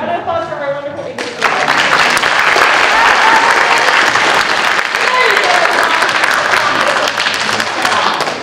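Loud, sustained applause from a school audience at a middle school academic honors ceremony, erupting after a brief moment of voices and carrying steadily with crowd noise and scattered voices throughout.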